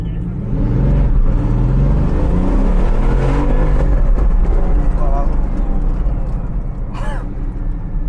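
A Bugatti car accelerates, its engine a steady, loud, droning roar that holds for several seconds, with brief voices over it near the end.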